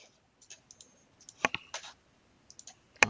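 Light, irregular keyboard clicks as text is typed on a computer, a scatter of soft taps with a couple of sharper louder clicks, close and quiet with no talk.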